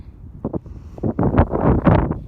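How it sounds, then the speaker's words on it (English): Gusty wind buffets the microphone near Bell Rock in Sedona, Arizona, coming in loud, uneven rushes that build and swell over a couple of seconds. "Ooh, it's getting windy."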